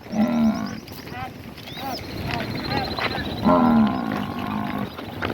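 Cattle low with two long, deep moos, one at the start and a louder one later, in an open farm setting, with a person talking over other farm noise.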